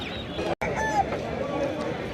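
Chickens and chicks at a Sunday poultry market at Tongi bazaar cluck and chirp in short bursts amid crowd noise, heard beneath a person talking close by.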